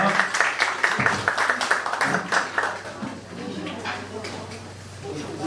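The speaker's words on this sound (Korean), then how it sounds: "박수로 환영하겠습니다" A youth group at a Sunday church service claps to welcome a speaker, a lively burst of applause that fades after a few seconds as a voice begins talking over the room.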